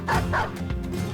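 A dog in the video game Battle Brothers gives a couple of quick, close bow-wow barks with a yipping edge, then a softer trailing whine.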